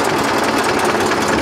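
Eicher 242 and Mahindra 275 DI tractor engines run close by at a tractor tug-of-war contest, a loud, steady low engine rumble throughout with no talk.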